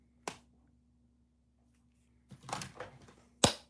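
Three sharp hand claps in a quiet room: one early, then a rough flurry of smaller taps, followed by a single crisp clap at the end.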